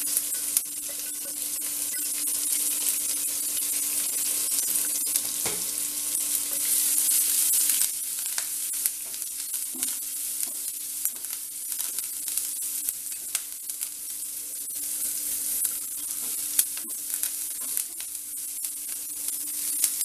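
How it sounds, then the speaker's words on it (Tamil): Thinly sliced onions sautéing in oil with cumin, fennel and pepper, a steady bright sizzle with occasional stirring scrapes and taps, close up and continuous, no talk. "வெங்காயம் சீக்கிரம் வதங்கணுங்கிறதுக்காக நைஸாக நறுக்கியிருக்கேன்."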